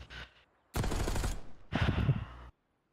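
Bursts of automatic gunfire from Call of Duty Black Ops 6 during a head-to-head gunfight in a competitive 8s match, two loud dense volleys separated by a short gap, with a faint lead-in before them.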